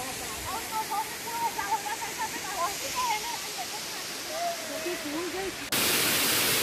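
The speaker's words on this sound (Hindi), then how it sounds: "ये देखिए झरना, छोटा वाला झरना है नीचे वाला।" Rushing water from the small lower cascade of Nagarda waterfall near Sakti, a steady broadband roar, with a voice talking over it, and the water suddenly grows louder and harsher near the end.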